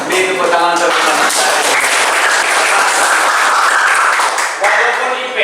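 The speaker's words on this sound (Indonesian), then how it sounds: "Beri tepuk tangan untuk teman-teman." Classroom applause for students, with dense, loud clapping from a group of children filling the room steadily for several seconds, and some voices and shouts mixed in.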